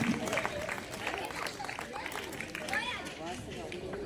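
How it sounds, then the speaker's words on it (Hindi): An audience applauds at a community award ceremony honouring members, steady clapping spread through the hall with chatter and voices mixed beneath it. "कृपया तालियों में कंजूसी ना करें"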